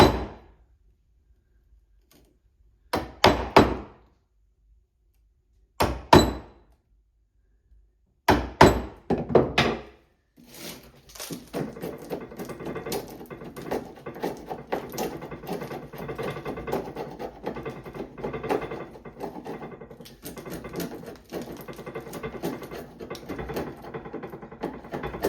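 A chisel removes waste wood while a rebate is cut. Several sharp, isolated knocks come first, then a long stretch of dense, continuous scraping and tapping.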